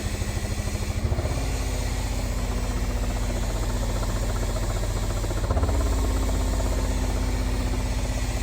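A car engine, with the fuel pump freshly wired in, runs rough and uneven instead of settling into an idle, a loud, steady close-up drone with a slight surge in pitch partway through.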